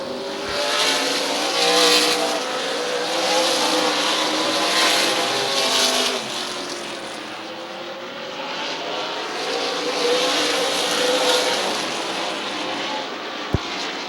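Stock cars racing in lap traffic late in a Super Cup Stock Car Series twin 50 feature at Midvale, engines roaring steadily at a moderate distance, with a sustained pack drone that swells and eases and no talk over it.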